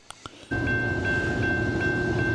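Moving train caught on cell phone video: after a few faint clicks, a loud rumbling roar of rolling wagons bursts in and holds, with a steady high whine riding on top.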